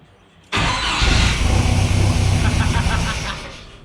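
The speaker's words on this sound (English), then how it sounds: "I'm gonna crank it and see if it actually fires." A turbocharged 3.0L Mercruiser boat engine swapped into a Chevrolet S10 cranks and fires abruptly, then settles into a loud, rough idle close to the microphone.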